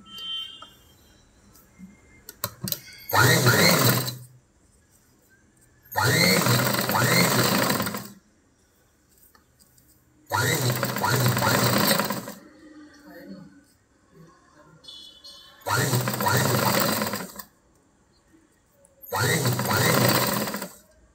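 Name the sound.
sewing machine stitching a blouse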